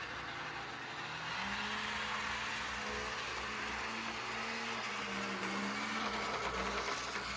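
A Pemco ALCO C-430 model locomotive runs on a layout track, a steady faint motor whine and hum with a rising tonal drone and light rail rumble, no talking.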